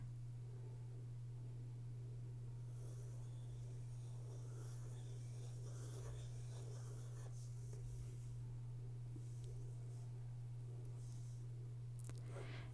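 Pencil scratching on paper while sketching a cartoon mouse's ears, a soft, steady rubbing and stroking under a constant low electrical hum, faint and close with no voices.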